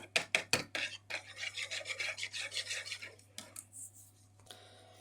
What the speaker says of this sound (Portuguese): Com um fouet, vamos abrir todas as nossas gemas.